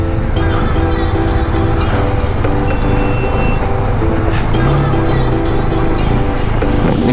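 A motorbike engine churns steadily as the bike wades across a fast-flowing mountain stream on the Killar to Jispa road, the rushing water and engine forming a loud, continuous roar up close.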